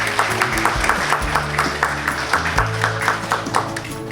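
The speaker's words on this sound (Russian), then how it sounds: "Ваши аплодисменты." Audience applause at a photo contest award ceremony as participant certificates are handed out: a steady wash of many hands clapping, moderately loud and continuous, with a few sharper individual claps standing out.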